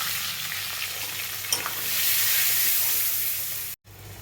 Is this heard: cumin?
yes